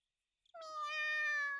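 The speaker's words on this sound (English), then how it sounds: "Just then we hear a tiny meow from inside." A small cat meows once from inside a box in a video game, a single clear, rising-and-falling mew that starts softly and swells, heard alone and close.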